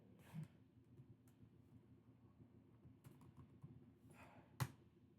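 Computer keyboard typing at low level, a loose scatter of soft key clicks over a steady background hum, with one sharper louder tap near the end; no talking.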